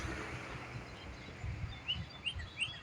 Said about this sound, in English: Listen to the bird.